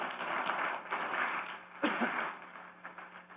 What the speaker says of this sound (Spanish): Yo le daría un fuerte aplauso al Señor Jesús.